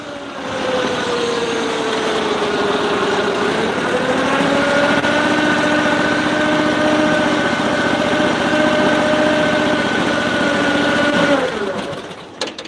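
A GX 670 engine drones loudly and steadily with a tonal hum whose pitch dips partway through, then holds before cutting off abruptly near the end.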